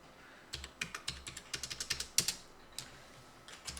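Typing on a computer keyboard while entering spreadsheet data: a quick run of close, crisp key clicks in irregular bursts, with a brief pause near the end.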